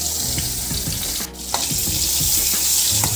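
Paneer and pointed gourd frying in a pan, a steady close hiss with soft crackles and a few clinks of a utensil, no voices.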